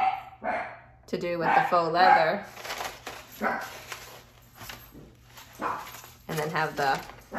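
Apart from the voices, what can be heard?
dog barking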